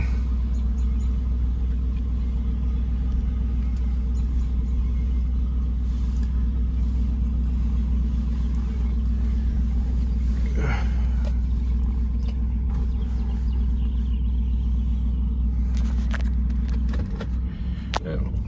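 A 2011 Dodge Durango R/T drives around the block with a constant low engine rumble and road drone heard from inside the cabin, plus a few faint rattles and bumps near the end.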